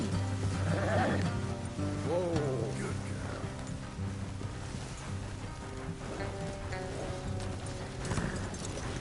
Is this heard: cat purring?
no